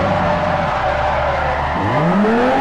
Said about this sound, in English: another big problem with the sounds in old Forza games were the tire squeals, because they were just way too loud